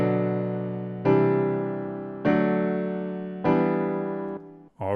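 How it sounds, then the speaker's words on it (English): Four sustained synth chords change roughly every 1.2 seconds, each one decaying slowly, with a pedal tone doubled an octave above held across the progression. The playing is clear and close, with no voices. "we're going to duplicate it an octave above, and then we're going to run that through all 4 chords"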